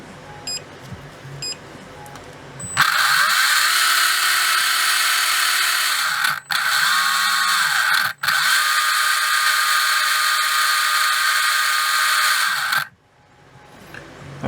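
A brushless RC car motor, a REDS Racing VX4 17.5-turn, whines loudly and steadily during an automatic test on a bench. The pitch holds nearly constant, with two brief cutouts, then a short spin-down, and no talking.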